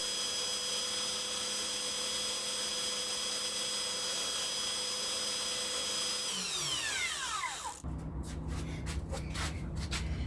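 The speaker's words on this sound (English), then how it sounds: "this is just showing you when I was sanding off the pieces that I had cut." A power sander grinds against cut wooden tripod pieces, a steady mechanical whine that winds down and stops, followed by a few short scraping strokes of hand sanding.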